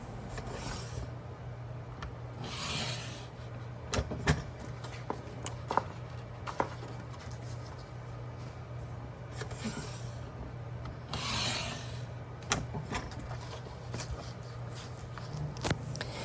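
Scissors or a blade cut and rasp through a sheet of 12x12 scrapbook paper, trimming away its center to leave a frame, in a soft, intermittent scraping and rubbing with a few light taps along the way.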